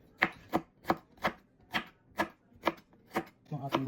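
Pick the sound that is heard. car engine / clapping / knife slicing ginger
knife slicing ginger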